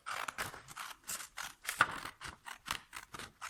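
Rapid, repeated snips of scissors cutting through paper, a quick irregular series of crisp close-up cuts with short pauses in between.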